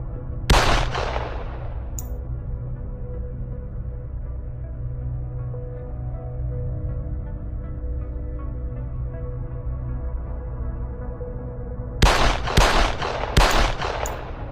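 Gunfire in an armed street robbery scene: a loud burst of sharp cracks at the start, then a long low rumbling stretch, then a cluster of several quick shots near the end.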